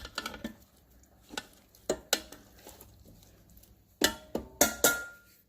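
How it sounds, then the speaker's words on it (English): Chicken wings tossed in the basket of an original Ninja Foodi give a few soft clatters and rattles in irregular clusters, with a louder burst of knocks near the end and quiet gaps between. "It's time to toss those chicken wings around."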